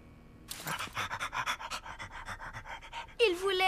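A child imitates a panting dog with rapid, rhythmic huffing breaths, close and fairly loud for about three seconds, ending in a brief higher vocal sound.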